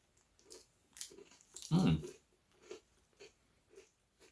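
Someone bites into a coconut crispy rice puff white chocolate bar with one sharp crunch, then chews in a quiet, regular rhythm with soft crackles and breathing, close to the microphone.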